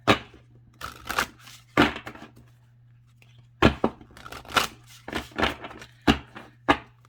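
Large oracle cards being shuffled by hand make irregular bursts of crisp papery riffling and slapping, close and fairly loud, separated by short quiet gaps.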